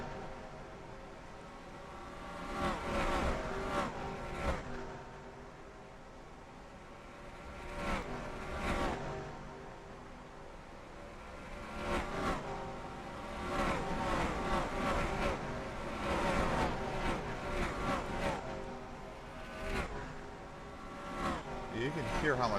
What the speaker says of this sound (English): You can hear how much quicker Spark is just by the engine note as he comes by.